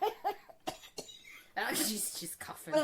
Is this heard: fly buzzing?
no